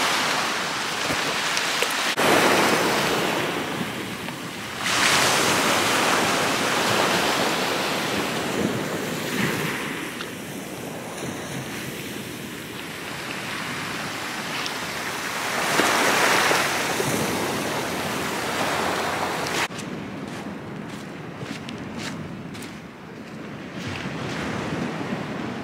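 Ocean surf rolls onto a beach in Jamaica, close and loud, with waves swelling and breaking in slow surges. Heavy wind buffets the microphone throughout, and no voices are heard.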